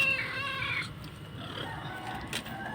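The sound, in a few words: cats meowing, begging for food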